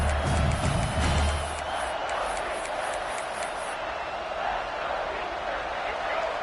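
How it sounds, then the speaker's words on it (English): Steady roar of a stadium crowd in a college football video game, rising and cheering, broad and continuous beneath a commentator's voice. "This crowd rising up, sensing that its defense needs some help."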